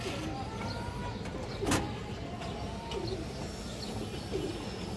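A pigeon coos softly a few times in low, rolling murmurs amid a faint background hum and occasional bird chirps, with a brief brighter noise burst partway through.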